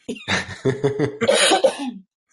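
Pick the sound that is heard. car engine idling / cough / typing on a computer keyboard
cough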